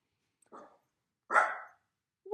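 A dog barks three times, short close woofs spaced about a second apart, the middle one loudest, with no talk around them.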